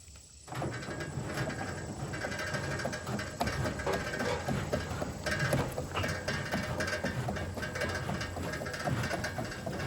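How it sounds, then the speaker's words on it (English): Wheel of a no-till seed drill being turned by hand to drive the seed metering mechanism during calibration, giving a steady, continuous mechanical ratcheting and clicking close by with no talk. "going to turn that wheel 13 times"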